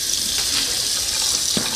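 Scalding hot water running from a tap into a jug, a steady hiss of splashing flow close by.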